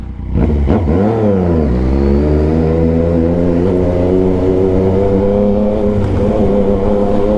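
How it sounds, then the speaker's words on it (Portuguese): A Yamaha MT-09 motorcycle engine revs up sharply, then holds at a high, steady pitch on the rev limiter with a buzzing, stuttering drone, sustained and close. "já toma ele corte de giro no ouvido"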